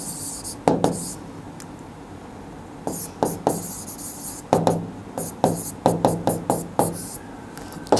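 Pen or chalk writing out a calculus derivation during a maths lesson, heard as scattered short scratchy strokes and taps in irregular clusters, fairly close, with quiet background.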